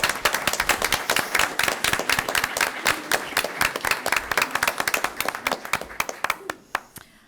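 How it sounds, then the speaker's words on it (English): A small audience applauds at a presentation, dense clapping that thins into scattered individual claps toward the end, with faint voices underneath. "I don't know if we could give them all a round of applause."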